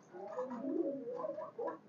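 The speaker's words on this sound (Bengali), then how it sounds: "এই কবুতরটা হলো ফকিরগুল কবুতর।" A Fakirgul pigeon, a single breeding male, coos close by in a few soft, low, rounded phrases, with no other sounds around it.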